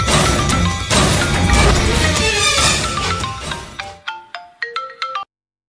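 In a Telugu TV drama scene, a phone rings as a short run of bright electronic ringtone tones, about five quick pulses near the end, following a dense stretch of loud music and dramatic sound.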